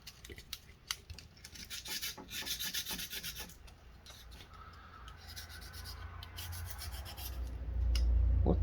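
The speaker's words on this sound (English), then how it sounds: "This is one of my preferred methods for taking off rust when you don't want to harm a finish." A small wad of aluminum foil is scrubbed against a rusty Kershaw Lifter folding knife, giving close, dry, gritty rubbing in quick repeated strokes that turns into a steadier scraping, with no voices.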